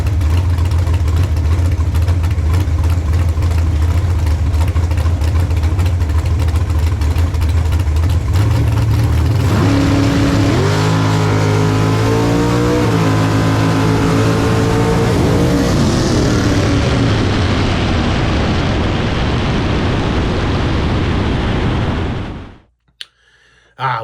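A 460 dragster engine at a bracket drag race, loud and close, holding a heavy steady rumble before climbing in pitch through a run of revs, then holding a roaring drone before cutting off sharply near the end.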